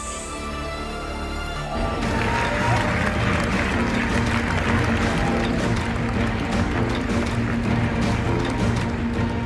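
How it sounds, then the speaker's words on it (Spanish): After a short quieter opening, a Venice Film Festival audience breaks into a dense, sustained ovation for Mexican filmmaker Guillermo del Toro, loud steady crowd applause filling the rest of the clip. "Lo que se observa y también se escucha son los momentos de la ovación al cineasta mexicano Guillermo del Toro"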